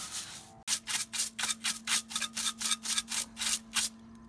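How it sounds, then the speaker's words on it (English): A small whisk broom sweeps ash from the bottom of a Big Green Egg ceramic grill in quick, regular bristly strokes, about a dozen close scratchy swishes in a steady rhythm over a faint low hum. "We're using just a little whisk broom just to sweep that bottom,"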